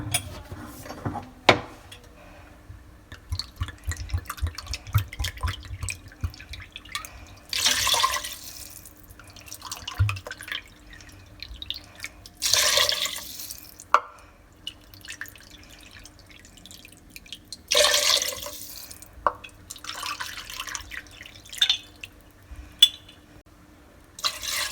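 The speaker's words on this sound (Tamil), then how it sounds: "ஸோ அதனால் நான் 4 கப்பு தண்ணி ஊற்றிக்கிற போகிறேன்." Water poured into a pressure cooker pot for a mutton bone soup, about four cups, heard as repeated bursts of splashing and trickling alongside drips and clinks, fairly close, with no talking.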